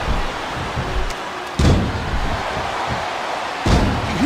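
A wrestler's leg strike lands in the WWE SvR 2009 video game, giving a loud, close slam. One heavy thud sits over steady crowd noise, and a second, similar impact follows a couple of seconds later.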